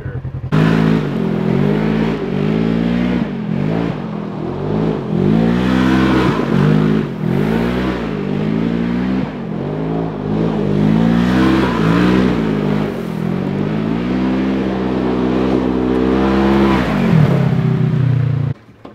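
A 2021 Polaris RZR XP 1000 side-by-side engine revs hard and repeatedly while doing donuts, rising and falling in loud rhythmic surges up close for the whole stretch before cutting off at the end; voices talk faintly under the engine.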